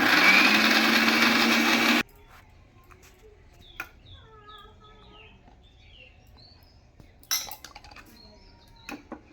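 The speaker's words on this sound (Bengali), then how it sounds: "আগে কড়াইশুঁটিটা আর কালো জিরা পেস্ট করে নিচ্ছি।" Electric mixer grinder whirring loudly as green peas and black cumin are ground into a paste, a steady roar lasting about two seconds before it stops abruptly, followed by quiet kitchen clinks and faint bird chirps.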